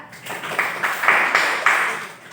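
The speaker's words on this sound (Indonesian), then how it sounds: "Kasih tepuk tangan yang meriah untuk kelompok visual." Fifth-grade class giving a lively round of rhythmic clapping for a student group, several loud, patterned bursts of hands close by, no voices over it.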